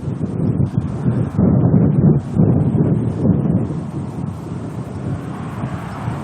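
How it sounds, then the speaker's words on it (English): Strong wind buffets a microphone outdoors at an airport, producing loud, gusty low rumbles that surge and fade continuously. "This wind is certainly testing me"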